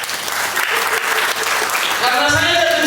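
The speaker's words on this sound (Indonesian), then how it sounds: "Mana tepuk tangannya?" At a business seminar in Makassar, a crowd bursts into dense, loud applause that carries on steadily throughout, with a few voices mixed into the clapping.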